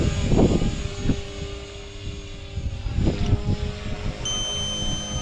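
A model 3D helicopter flies outdoors, its electric rotor whine rising and falling in loud swooping passes with gusty wind buffeting the microphone, no talk over it.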